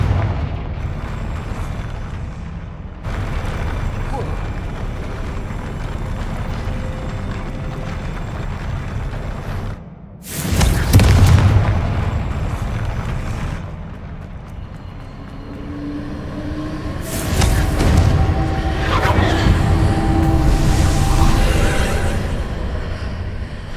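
Confringo fire-blast spells from Hogwarts Legacy burst with deep, booming explosions, two big blasts around the middle and late part, over a steady low rumble of game ambience.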